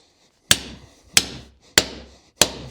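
Four sharp hammer strikes on a metal shaft, evenly spaced about a half-second apart, each ringing briefly before fading; close and loud with no voices.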